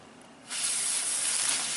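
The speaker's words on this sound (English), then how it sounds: "This is a crackling thunder candle, 5 balls." A crackling thunder firework candle launches from a handheld launcher, starting abruptly with a loud, sustained close hiss and spray of sparks that continues steadily.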